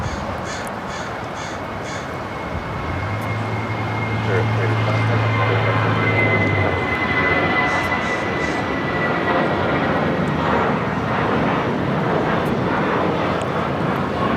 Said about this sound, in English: This takeoff is Spirit Airlines 387 taking off to New Orleans on the A320